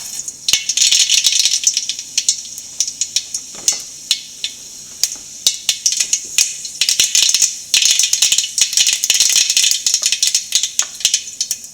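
Mustard seeds splutter and pop in hot oil in a pan for a Kerala bitter gourd and carrot pickle, making dense rapid crackles and sharp pops that run continuously at close range.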